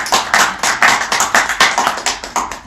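Audience clapping in unison to approve a motion at a party founding assembly, loud and close, with rhythmic synchronized beats repeating about every quarter second.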